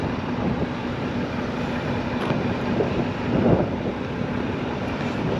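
A cold wind blows across an airport in Vancouver, a constant low rumbling roar buffeting the microphone with slight swells, and no voices over it.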